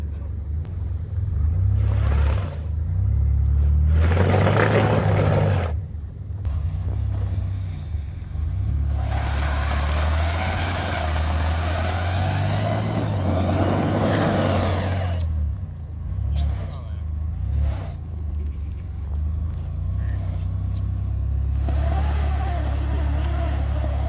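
Car doing burnouts with wheels spinning, a loud rumbling engine revving hard in long surges with gritty tire roar and brief quieter gaps between pushes.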